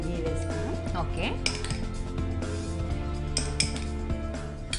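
A pan set onto a kitchen stove with metallic clinks and clatters of cookware and utensils, close and moderately loud, with music and light voices in the background.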